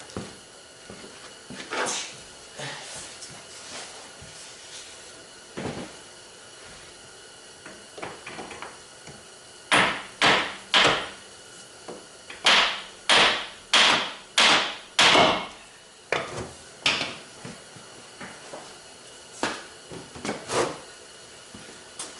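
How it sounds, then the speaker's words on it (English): A hammer taps the inner side of a car axle repeatedly, sharp metal knocks coming in uneven bursts, with a fast run of strikes in the middle, close and loud. "the best way to do this is you just tap the inner side with a hammer"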